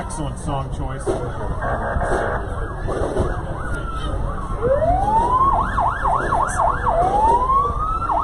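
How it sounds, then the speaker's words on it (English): Fire truck sirens pass in a Halloween parade in Centralia, rising and falling in repeated wails and whoops that grow louder toward the end, with horn blasts and a voice talking over them. "Now we have all of the fire trucks."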